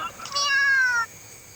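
A single short cat meow, fairly close and clear, rising then falling over about a second against quiet background noise.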